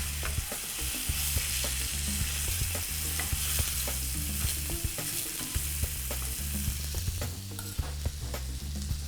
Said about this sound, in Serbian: Grilovat ću svo meso zajedno. Na najjačoj vatri